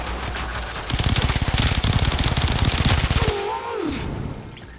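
Rapid enemy gunfire in the video game Warframe, a dense, steady stream of shots running for about two seconds before cutting off, followed by a short rising and falling electronic game tone.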